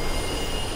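A subway train rushes past inside a tunnel in Mirror's Edge, a dense, loud, continuous roar with faint squealing overtones, steady throughout the brief moment.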